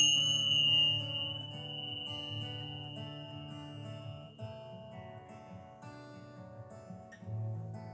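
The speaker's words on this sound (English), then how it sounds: "Let your mind, your soul, and your body absorb the vibrations of the bells" Bells ring during a yoga relaxation, leaving soft, sustained resonant tones that hang and slowly fade in a quiet room, with no talking.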